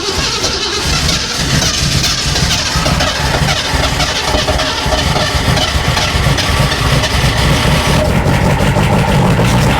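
Rebuilt 1939 Ford engine on a classic Ford highboy, running loud and steady throughout after starting, with a rough, uneven idle and a slight rise in revs near the end.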